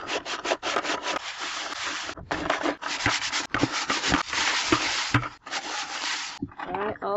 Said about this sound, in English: And then scrub bottom, and go to the edges here.